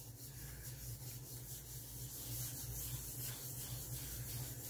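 Neatlac sealer being lightly rubbed onto a surface with cavities, a soft, steady, quiet scrubbing texture heard close and alone with no voices.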